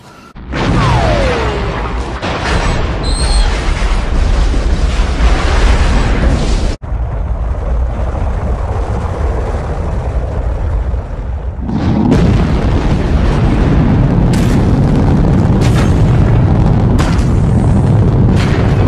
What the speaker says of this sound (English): All batteries, fire! Fire!